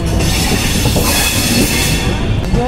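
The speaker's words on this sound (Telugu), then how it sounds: "అండ్ వచ్చేసి ఫల్క్నామా ఎక్స్ప్రెస్ 12704 అనమాట" The Falaknuma Express, a superfast train out of Secunderabad Junction, roars loudly nearby with rumbling wheels, metallic squeals and rhythmic clatter from the rails.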